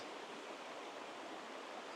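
A small stream in the bush gurgles and trickles in a soft, even wash of water heard close by and alone, with no voices.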